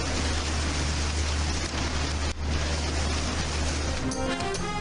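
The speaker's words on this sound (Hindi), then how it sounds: "Unseasonal rain. It was a massive storm." Heavy unseasonal rain from a massive storm with strong wind pours down over a flooded cricket arena in Lahore, a steady loud roar, dense continuous downpour with a low rumble beneath it.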